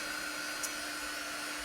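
A small hair dryer blows close by in a steady, even whoosh with a faint whine, continuous and unchanging, used to dry a craft project on a wine tumbler.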